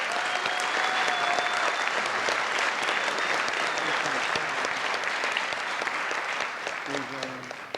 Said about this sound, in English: Can I ask for a round of applause?